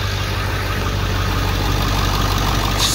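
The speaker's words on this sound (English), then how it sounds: "Still really freaking loud out here in the engine bay." Ford 7.3 Power Stroke diesel truck engine idling in the engine bay, a steady loud low rumble with a constant clattering texture throughout, heard up close and alone.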